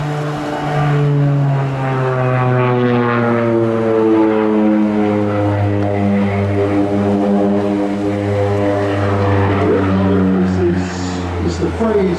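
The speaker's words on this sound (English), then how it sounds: "the Bronco comes hard round onto the ground line." An OV-10 Bronco propeller aircraft flies a display at the Rhyl Airshow 2017, swinging hard round onto the ground line. Its loud, steady, droning propeller tone holds throughout while a commentator talks over it.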